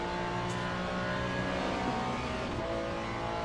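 A Hypercar race car in the Le Mans Ultimate racing game sweeps past with a steady, dense engine roar and layered high whine, continuous and fairly loud throughout.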